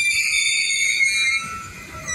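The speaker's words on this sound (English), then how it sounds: "You see, this train has stopped, but the other train is still going." One freight train stopping while a second keeps rolling past, with sustained high metallic wheel squeal tones over a low rumble, which ease off partway through.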